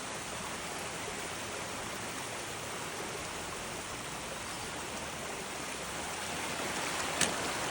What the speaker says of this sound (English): Overflowing the banks.